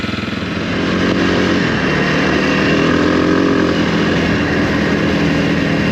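A Kawasaki KLX 300R dirt bike with a new 14/47 rear sprocket rides a trail, its engine droning loud and close, rising slightly in pitch as it pulls steadily with no talk.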